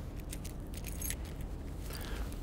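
Keys jangling on the trunk key of a 1991 Cadillac DeVille, several bright metallic clinks and rattles close up, with a soft background rumble and no speech.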